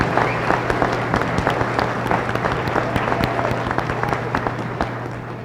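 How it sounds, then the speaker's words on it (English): Steady applause from a large audience at a college graduation ceremony, many hands clapping at an even level throughout, with a low constant hum underneath. "Please join me in a round of applause to celebrate their"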